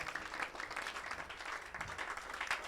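A church congregation applauds together, making a dense, steady wash of clapping hands that holds throughout at moderate volume, with no voices rising above it.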